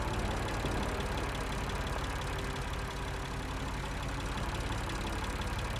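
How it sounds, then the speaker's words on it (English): A diesel generator runs inside a shed in the video game Lost Horizon, a steady, continuous engine drone with a low rumbling idle that holds constant throughout, loud and close with no talk over it. "there are diesel generators in this shed"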